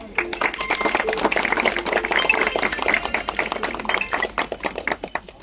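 A crowd applauds at a society felicitation event, with dense, continuous clapping from many hands, loud and close, and voices mixed in throughout.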